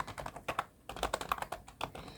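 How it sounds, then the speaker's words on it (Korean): Computer keys pressed one after another while typing in a spreadsheet, including Alt+Enter and Tab, a close, quick run of uneven clacks with brief pauses and no voice. "Alt Enter 키 눌러서 사용자 수 탭키 눌러서 저는 오른쪽으로 커서를"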